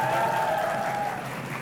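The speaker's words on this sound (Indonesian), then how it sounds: "Boleh kita kasih tepuk tangan dong ke 3 dewan juri" Brief burst of audience applause for three jury members at a school quiz competition, a dense steady patter of clapping heard alone.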